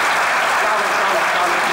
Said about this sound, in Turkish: Bir alkış rica edeyim.